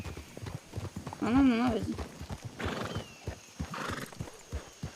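A horse being ridden on a trail clip-clops in a steady rhythm and lets out a loud whinny partway through, while riders talk nearby.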